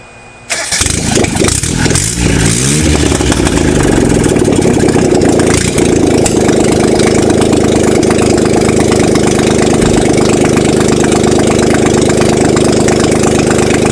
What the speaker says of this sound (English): It'll be noisy because there's no exhaust manifold or exhaust on the car.